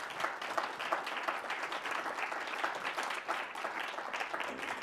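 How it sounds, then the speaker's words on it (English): A women's health panel audience gives a round of applause, many hands clapping evenly and fairly quietly in a hall, alone without talk. "let's give them a quick round of applause"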